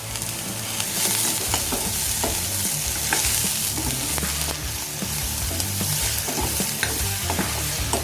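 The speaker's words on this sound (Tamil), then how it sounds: "இந்த தக்காளி, வெங்காயம் இது எல்லாமே நல்லா வதங்கியாச்சு." Tomatoes, onions, garlic and curry leaves sauté in a pan for a black gram chutney, with a steady loud sizzle and repeated scraping stirs throughout and no talking.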